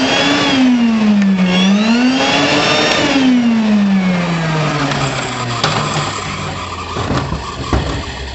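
A Rainbow E-series vacuum cleaner motor whines loudly and steadily, its pitch dipping and rising, then winding down toward the end.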